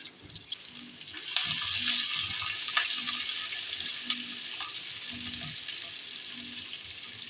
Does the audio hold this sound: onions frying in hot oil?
yes